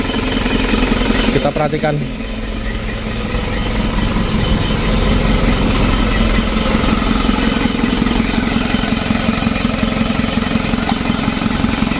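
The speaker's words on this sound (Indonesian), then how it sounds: "Untuk mesinnya sudah hidup, sambil kita pantau teman-teman" A freshly rebuilt Isuzu Traga engine idles with a loud, steady rattling chug throughout, close by, while someone talks over it.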